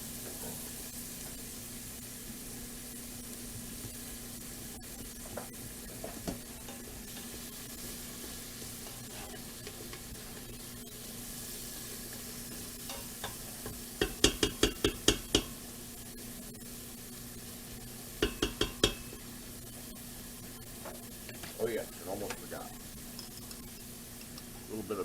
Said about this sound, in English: Just let this saute for a minute.